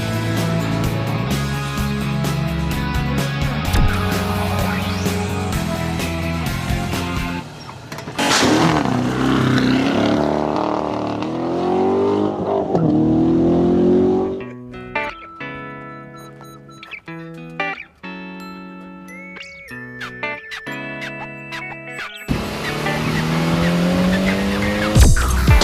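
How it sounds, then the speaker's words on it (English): A Lamborghini Murcielago V12 in the Forza racing game revs hard through rising gears, with screeching tire squeal and skidding. The engine note drops and climbs between shifts, loud and close throughout. "And that engine, that 12-cylinder."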